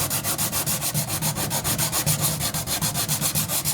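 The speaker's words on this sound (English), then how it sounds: "start carefully sanding off all these runs" Steady back-and-forth sanding of paint runs on a wooden bifold door, a close, continuous rasping scrape with an even rhythm of quick strokes throughout.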